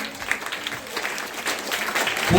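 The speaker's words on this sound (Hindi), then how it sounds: "ताली बजाएंगे।" Crowd applause at a ceremony paying floral tribute to a statue of Sarojini Naidu, steady and fairly loud, swelling toward the end with no speech over it.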